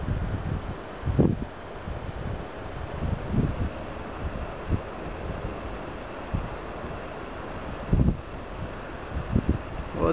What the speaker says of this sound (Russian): Поднимается ветер